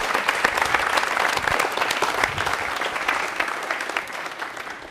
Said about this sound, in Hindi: गौरव से इनके लिए तालियां बजाइए भैया,